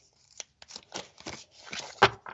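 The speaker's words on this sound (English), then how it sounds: "And I'm still shuffling the tarot." Tarot cards being shuffled by hand at close range, a few uneven bursts of papery riffling and snapping with short pauses between, loudest near the end.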